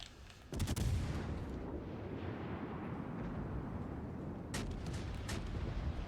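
Warship guns firing in World of Warships Legends, a sudden loud booming blast followed by a sustained rumble, then two more sharp, lighter shots near the end.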